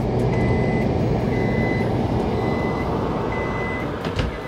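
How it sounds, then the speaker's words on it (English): An RV convection oven timer beeps four times in an even, spaced pattern, thin tones sitting over a steady rumbling background hum. "the timer just went off"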